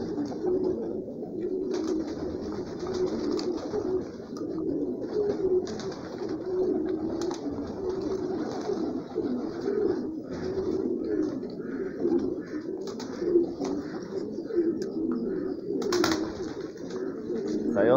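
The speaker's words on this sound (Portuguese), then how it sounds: "Aí é os pombos que voam aqui em casa" Domestic homing pigeons at a house coo steadily and continuously in a morning flock, a dense layered murmur from many birds, with an occasional brief flutter of wings and some faint talk in the background.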